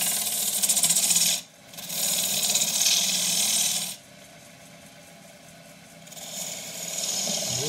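A wood lathe turns a distorted loquat bowl: a loud, rasping, broadband cutting noise that drops out briefly near 1.5 seconds, eases to a quieter hum for about two seconds, then surges back.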